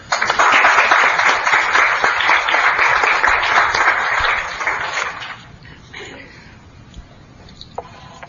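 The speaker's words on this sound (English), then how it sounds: "I think we should give a round of applause." A room of listeners claps at a talk, sustained and fairly loud for about five seconds before thinning out into scattered claps and quiet.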